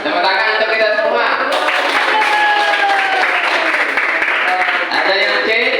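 Students in a classroom clapping together as a loud, steady burst of applause. It continues through the whole stretch, with voices and cheers mixed in.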